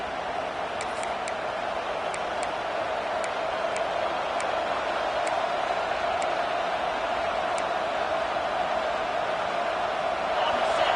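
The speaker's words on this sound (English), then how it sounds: "Listen to this crowd just shaking the girders of this place, trying to help their defense" Steady roar of a stadium crowd in a Madden football video game, loud and continuous behind a commentator's play-by-play.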